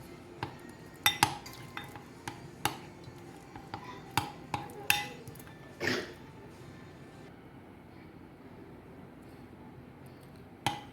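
Ingredients for a homemade beauty treatment being mixed in a bowl, with scattered clinks and taps of a spoon against the dish, irregular and close, fading out toward the end.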